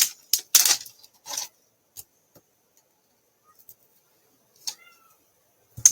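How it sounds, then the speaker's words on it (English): Several kittens meow and yowl from just outside a closed door, a few short high cries in quick bursts at the start, then sparse scattered mews with long quiet gaps between. "I have baby kitties outside the door that are yelling at me because I closed the door on them"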